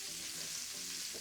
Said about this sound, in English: We're gonna add our shallots.